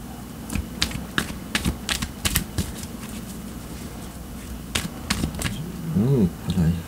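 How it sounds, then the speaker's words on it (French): Tarot cards are shuffled close up in a series of quick soft riffling clicks and flutters, irregular and fairly continuous, with a low hum and a brief murmur of a voice near the end. "Puis, je brasse encore un petit peu."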